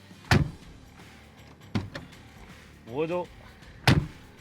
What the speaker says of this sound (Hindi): अब आप ये दरवाजे की आवाज़ सुनो